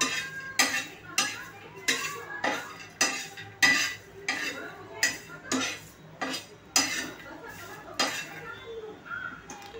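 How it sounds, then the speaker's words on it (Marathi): Curry leaves and garlic are stirred in a pan while roasting for a peanut chutney, a utensil scraping and clinking against metal in a regular rhythm of about a dozen strokes, with a faint sizzle underneath. "छान कढीपत्त्याची पानं अशी कुरकुरीत होईपर्यंत भाजून घ्या लसूण।"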